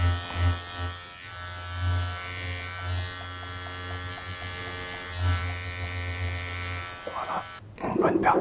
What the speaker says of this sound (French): Une tondeuse.